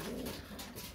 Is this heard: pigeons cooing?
yes